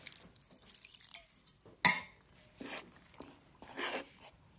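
Small amounts of boiled water are added to unniyappam batter of rice and wheat flour, making soft scattered drips and splashes. One sharper splash stands out among quieter liquid sounds, and no one speaks.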